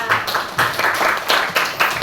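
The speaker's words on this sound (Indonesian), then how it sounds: "Tepuk tangan buat Diandra." A small group of students in a classroom claps in bursts, the applause swelling and dipping several times over a couple of seconds.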